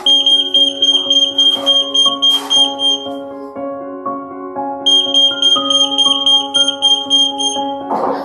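An EAS AM anti-theft gate alarm sounds during a test with a security label, giving loud, rapidly repeating electronic beeps and tones in a shifting pattern that briefly pauses and then resumes.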